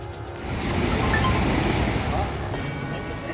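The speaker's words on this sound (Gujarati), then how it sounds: "મચ્છુ 2 ડેમના દરવાજા ખોલાતા જ ડેમમાંથી પુષ્કળ પ્રમાણમાં પાણી છૂટ્યું" Water released from the opened gates of the Machchhu 2 dam roars in a loud, steady rushing wash, like heavy surf, with no clear voices over it.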